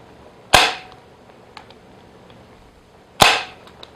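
A staple gun firing into beaver fur on a wooden table, two sharp, loud snapping cracks about two and a half seconds apart, each with a brief ringing tail, alone without speech.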